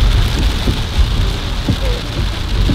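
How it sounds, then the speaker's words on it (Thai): Heavy rain with large drops pours down outdoors in Australia, a loud, dense, continuous hiss with scattered heavier drop impacts and a low rumble underneath. "ตกหนักมากๆแล้วเม็ดใหญ่ด้วย"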